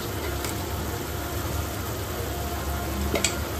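Ground spice paste dropped into a hot pan for vegetarian ghugni frying gives a continuous sizzle, with a couple of brief utensil clicks as it is stirred.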